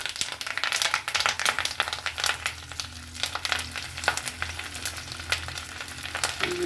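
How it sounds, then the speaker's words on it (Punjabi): Curry leaves hit hot oil in a pan and sizzle loudly, a dense, continuous crackle with sharp spitting pops throughout and no voices. "ਲਓ ਜੀ ਤੇਲ ਹੋ ਗਿਆ ਗਰਮ ਲਓ ਜੀ ਹੁਣ ਆਪਾਂ ਪਾਉਨੇ ਆ ਕੜੀ ਪੱਤਾ ਤੇ ਵਿੱਚ"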